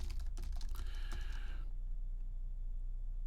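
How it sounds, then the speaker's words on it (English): Close, quick tapping on a computer keyboard lasts about a second and a half, then stops, leaving only a faint room hum. "you can just, type your content here."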